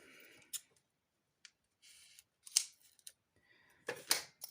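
A few short, crisp snips of scissors cutting paper while making a Christmas card, spaced irregularly with quiet gaps between them, close and fairly soft.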